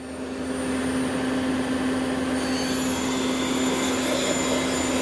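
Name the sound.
Citizen M20V CNC Swiss lathe spindle running at 2000 rpm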